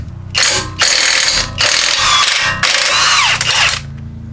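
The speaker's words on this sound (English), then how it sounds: "we'll zip off this axle nut right here" Rapid ratchet clicking as a socket wrench spins off the front axle nut on a 2016-2021 Jeep Grand Cherokee, using a 1 1/4 inch socket. Several loud, close bursts of clicking with short pauses between them, no talking.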